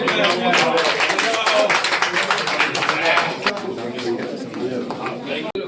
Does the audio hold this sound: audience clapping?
yes